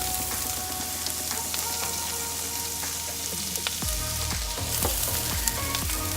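Onions sautéing in melted butter in a pan, giving a steady close sizzle throughout, with stirring clatter of a utensil against the pan joining in during the second half.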